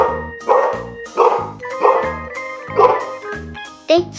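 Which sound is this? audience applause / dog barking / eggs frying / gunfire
dog barking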